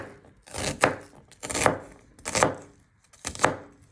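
A knife finely chopping onion on a cutting board, four firm rhythmic chopping strokes close up and fairly loud, with no talk.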